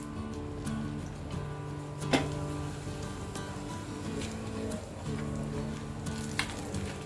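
Soft sizzling of dried red chilies and Kashmiri red chili powder frying in hot oil for a tadka, steady and close, with a couple of light clinks and a faint background hum.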